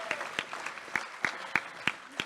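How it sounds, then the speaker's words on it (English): Audience at an Art Center community reading event gives applause, heard as sparse, evenly spaced claps roughly three per second, moderately close and fairly quiet, with faint voices in the background. "A round of applause for that, please"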